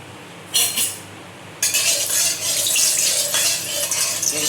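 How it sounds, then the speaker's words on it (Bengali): Mango pickle with panch phoron being stirred in a kadai: a brief scrape, then a steady loud sizzle and scraping of the spoon against the pan for the rest of the time, no talking. "এই মিষ্টি আচারে আমটাকে একটু পাঁচফোড়ন দিয়ে একটু নেড়ে নেব"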